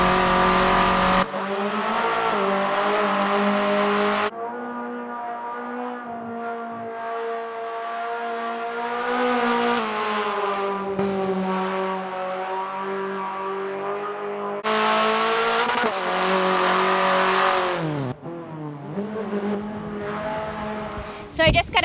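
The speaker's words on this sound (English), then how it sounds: "now I'm going to drive the Veloster N on the handling circuit." Hyundai Veloster N driven hard on a handling circuit at a proving ground, engine tones rising and falling through gear changes, with loud wind-buffeted bursts and occasional speech over the steady drone.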